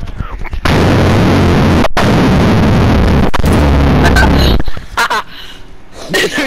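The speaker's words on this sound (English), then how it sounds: "There's just an explosion." Loud sustained explosion and gunfire roar in a warfare video game, a dense blast lasting several seconds before cutting out, followed by quieter game sounds and short bursts.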